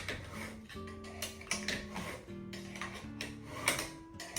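Plastic auger being unscrewed from a Fabio Leonardi MR10 tomato crusher, giving a close series of ratcheting, grinding mechanical turns with short pauses between twists.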